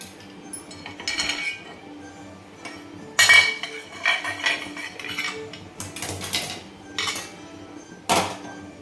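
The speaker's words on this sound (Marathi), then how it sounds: "हे तवा मी उतरून घेते आणि जाळे ठेवणार आहे" A griddle is lifted off a stove and a metal grill rack set down in its place, giving scattered clanks, scrapes and clinks of metal on metal, with louder knocks now and then amid a quiet kitchen.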